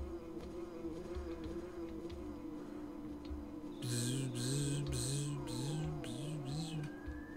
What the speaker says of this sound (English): That's not gonna get annoying with him buzzing around my head at all.